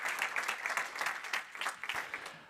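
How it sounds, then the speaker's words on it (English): A congress audience claps in a quick, fairly faint round of applause, many hands patting unevenly at a distance with no voices over it. "So big applause for Germany."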